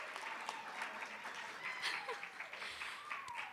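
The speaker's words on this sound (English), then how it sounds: "Please give a round of applause to my family." A graduation ceremony audience in a hotel ballroom applauds in a continuous, even patter of many hands, moderately distant, with some speech mixed in.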